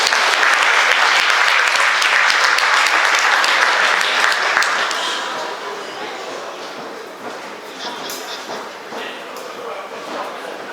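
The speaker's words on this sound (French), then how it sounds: "N'hésitez pas à applaudir entre les morceaux" An audience at a concert by a community orchestra in La Grand Combe applauds between pieces. Loud, dense clapping fades after about five seconds into scattered claps and murmuring crowd noise.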